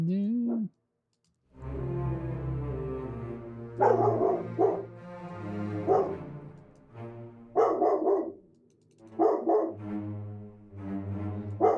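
A dog barks in short repeated bursts at a near distance, breaking out over a sustained musical tone during a live music-making session, with a brief silence before the barking starts.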